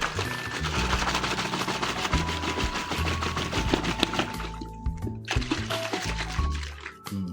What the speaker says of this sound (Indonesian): Nah, kita kocok guys.